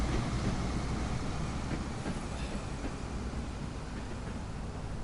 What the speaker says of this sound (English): It's always good to see trains leave, to be honest.